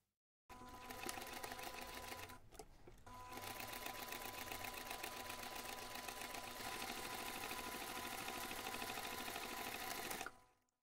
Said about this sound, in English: Then you can take this to the machine and sew along those two sides.